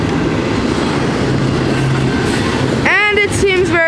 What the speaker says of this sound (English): A very slow intermodal.